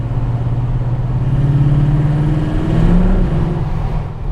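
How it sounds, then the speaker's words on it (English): A CAV GT40 with a 450-horsepower engine, quad Weber carburetors and open exhaust, heard from inside on a drive, rumbles low and loud with a steady, slightly rising drone and no talk. "The sucking noise of the carburetors, the tune of the exhaust just sounds absolutely beautiful in this car."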